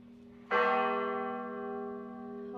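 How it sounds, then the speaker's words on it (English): A church bell at the Campeche cathedral, rung by hand by a bell ringer, strikes once loud and close, its bright overtones ringing on and slowly fading over a steady low hum. "I did not expect someone to be like pulling on the bell"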